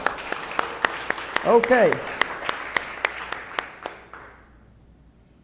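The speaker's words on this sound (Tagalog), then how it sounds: "Sige nga po, the best uling palakpak para kay Jesus." Congregation applause for Jesus at a church service, steady rhythmic clapping with a brief voice speaking partway through, then tapering off and fading to silence.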